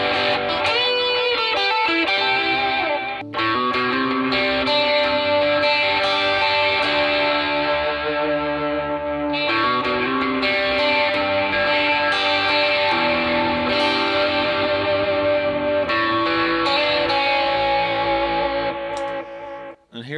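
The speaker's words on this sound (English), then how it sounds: "Here's some delay with a little bit of overdrive from the gain channel." Electric guitar through a Peavey Bandit 112 Teal Stripe Edition amp, with delay and light overdrive from the gain channel, plays sustained notes and chords with trailing echoes, loud and continuous, cutting off abruptly at the end.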